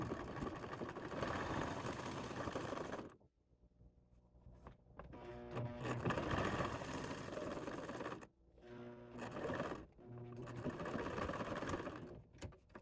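A sewing machine stitches a ribbon bag in several sustained runs, its close, whirring motor stopping briefly twice before starting again.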